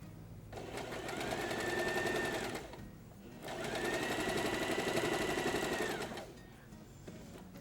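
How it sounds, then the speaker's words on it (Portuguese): A sewing machine stitching a patchwork table runner whirs close and steady in two bursts of a few seconds each, with a short pause between them and quieter handling sounds around them. "Agora é só costurar aqui do lado, ó."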